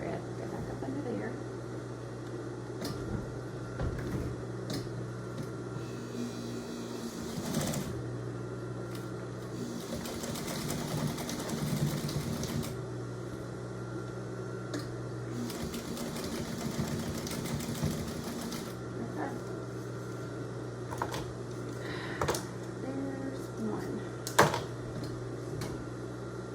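A sewing machine stitches Christmas stockings in bursts of several seconds, a steady mechanical whir starting and stopping between pauses, over a constant low hum, with someone talking quietly at times and occasional small clicks.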